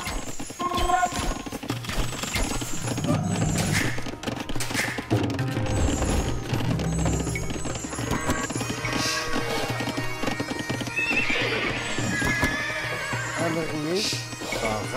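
Horse archers' horses in the Age of Empires II Definitive Edition game neigh and whinny loudly while hooves clop over a busy battle soundtrack, with a voice speaking over the game sounds.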